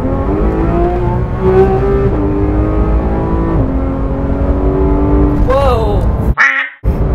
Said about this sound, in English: I'm gonna wait for this big refuse truck to pass